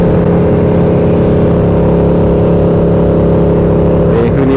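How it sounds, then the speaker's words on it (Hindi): Loud KTM Super Duke motorcycle engine roaring close by on the road, a dense, steady, rumbling drone that holds throughout with a slight pitch change near the end. "काफ़ी ज़्यादा सुपर ड्यूक लाउड है यार इसका"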